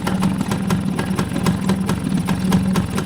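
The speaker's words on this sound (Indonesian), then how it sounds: "sekarang saya mau coba nyalain dari Suzuki A100 ini setelah mesinnya" A freshly rebuilt Suzuki A100 motorcycle's small two-stroke engine idles steadily up close, with a quick, even putter and regular exhaust pulses.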